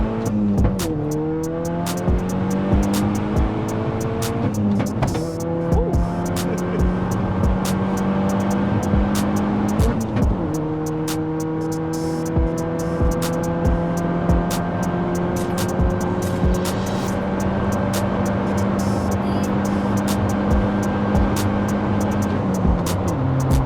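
A VW Caddy fitted with a 280 bhp TFSI petrol engine drives hard, its engine loud and close, climbing through the revs in repeated sweeps with short dips at each gear change and a steady drone in between.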